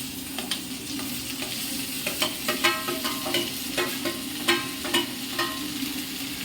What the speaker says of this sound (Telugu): ఇలా కలుపుతుంటే అది మొత్తం ఎర్రగా అవుతుంటాయి అన్నమాట